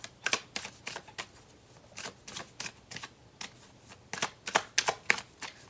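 Tarot cards being shuffled by hand, a series of crisp riffling bursts in uneven clusters, close and fairly quiet, with no talking.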